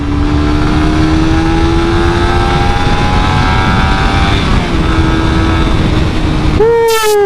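A 2017 Suzuki GSX R150 motorcycle engine revving loud and close, a sustained high whine that climbs steadily in pitch, then drops briefly and surges sharply again near the end.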